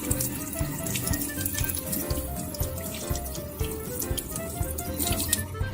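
Soaked seeds held in cheesecloth are rinsed under a running kitchen tap, a steady close stream of water spattering and draining with a few small drips, no voices.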